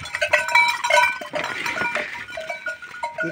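Sheep bleating on a small rural farm plot, several animals calling in overlapping, wavering cries with a bell clanking among them, close and fairly loud with no talk.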